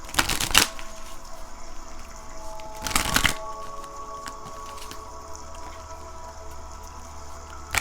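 Tarot cards are shuffled in two brisk, riffling bursts, loud and close, with quieter handling and a few soft taps between them.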